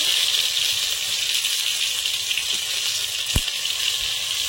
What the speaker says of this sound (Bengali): একটু তেলের ভালো করে ভেজে নেব।